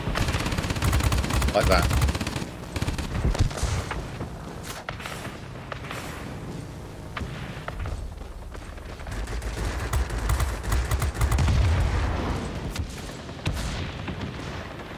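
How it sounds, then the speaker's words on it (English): In the World of Warplanes video game, the rear gun of a Northrop P-61 Black Widow rattles off long bursts of automatic fire alongside explosions and engine noise, with someone talking over the gunfire. "Make sure you pitch up when you use your rear gun."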